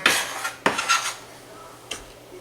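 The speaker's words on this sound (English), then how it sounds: "we want to get all the clumps out. And I'm going to keep on stirring" Peanut butter fudge mixture stirred in a pan, a few close spoon scrapes and metallic knocks against the pan over a couple of seconds.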